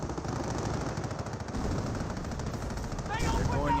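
Rapid bursts of machine-gun and rifle fire rattle through a Company of Heroes battle, dense and continuous, with a brief whistling effect near the end.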